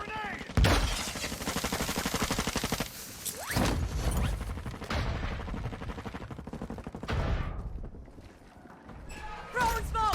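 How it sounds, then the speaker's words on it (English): Grenade throw amid a multiplayer shooter firefight, set among dense rapid gunfire bursts and clattering impacts that stay loud and continuous, with several sharp louder blasts and brief breaks. "Throwing grenade!"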